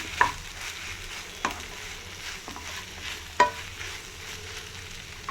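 Masala powders stirred in a pan while cooking anapa ginjala pulusu, a lablab bean curry: soft, quiet scraping under a low sizzle, with a few sharp spoon clicks against the pan and no talking.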